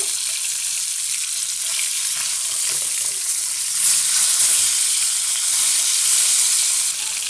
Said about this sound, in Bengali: মাছগুলোকে এখন আমরা ভালো করে উল্টিয়ে দেবো